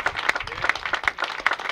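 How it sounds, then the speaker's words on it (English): Applause and clapping from guests at an outdoor pool party on a patio, a steady patter of hand claps with a few louder bursts, fairly close and continuous through the short stretch. "give a round of applause, Mr. Brian Riker from Red Gold."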